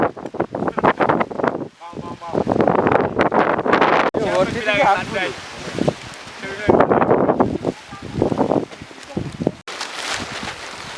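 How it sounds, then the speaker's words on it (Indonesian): Strong wind on Mount Bawakaraeng in South Sulawesi roars and buffets the microphone in gusts while people talk over the rushing noise outdoors. "Kondisi cuaca masih sangat berangin."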